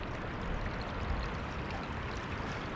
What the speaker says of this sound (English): Ganda ng river na to mga kaibigan.